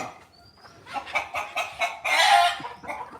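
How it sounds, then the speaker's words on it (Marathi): Hens kept with a single rooster cluck and chatter in a short burst of calls, fairly close, with one louder squawk toward the end. "एकच कोंबडा आणि बाकी कोंबड्या"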